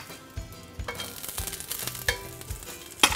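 Seasoned asparagus laid on a hot cast iron grill pan at medium heat, sizzling steadily at close range with soft clinks and shifting as the spears are placed, ending in a sharper clatter.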